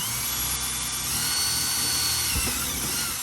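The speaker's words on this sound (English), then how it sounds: "What I'm using is an electric drill with a 1/4-inch drill bit." Steady, loud whine of an electric drill with a 1/4-inch bit running continuously, drilling a hole for a Kemimoto X3 battery jump post kit, with a brief bump in pitch near the end as the bit bites in.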